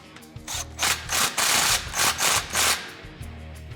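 A ratchet wrench snugs up an exhaust clamp on a 2017-2022 Ford Super Duty 6.2L during an MBRP 4-inch exhaust install, giving a handful of loud, close bursts of rapid clicking separated by short pauses.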